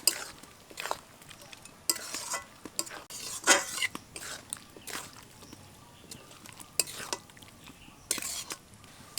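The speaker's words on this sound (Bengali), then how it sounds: "এখন এর মধ্যে দিয়ে দেবো ভেজে তুলে রাখা ফুলকপিগুলো। খুব ভালো করে সসের সাথে মিশিয়ে নেব।" Fried cauliflower is stirred into a bubbling sauce in a pan: repeated scraping and clinking of a utensil in irregular bursts over a faint simmering sizzle, fairly close and moderately loud.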